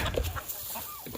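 Chickens give a few short clucks, close by, over outdoor background noise.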